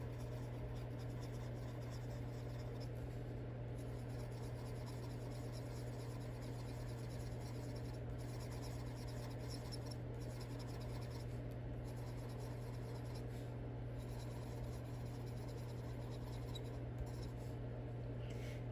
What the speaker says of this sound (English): These pencils are also squeaky, and I don't know why. They kind of squeak on this paper